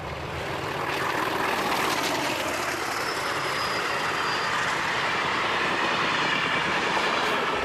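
A Portuguese CP class 1800 diesel locomotive moves past the main diesel workshops, a loud, sustained engine rumble with rolling wheel noise and a faint high squeal, with no voices.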